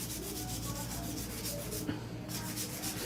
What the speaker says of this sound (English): it's not as smooth as if you use a hand file like this